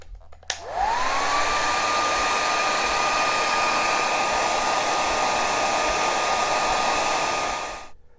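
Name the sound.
hair dryer drying guitar finish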